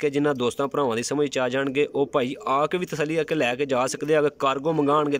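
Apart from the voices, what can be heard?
No everyday noise stands out behind the speech.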